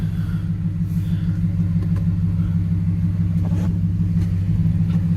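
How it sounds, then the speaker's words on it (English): A 2010 Ford F-150 Lariat engine runs close by with a steady low rumble and slight swells in pitch, heard alone without speech. "Give it a rev. Sounds pretty good though."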